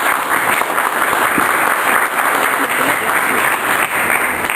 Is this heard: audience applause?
yes